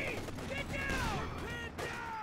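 Video game battle with an MG34 machine gun dueling a .50 cal, rapid bursts of gunfire and clattering mechanical noise layered over a voice talking.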